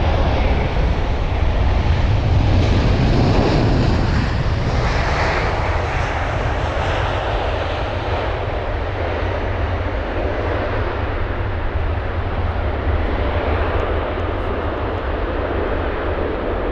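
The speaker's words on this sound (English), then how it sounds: "is going to be China Southern Airlines and their A350-900 from Beijing" China Southern Airlines Airbus A350-900 arriving at London Heathrow, its jet engines roaring loud and continuous throughout, with a broad rumble that slowly shifts as the airliner passes.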